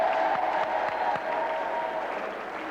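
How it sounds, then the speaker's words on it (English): Studio audience applauding on a television game show, a steady dense clatter of clapping that holds loud throughout, with a few sharper individual claps standing out near the start. "Give them a round of applause."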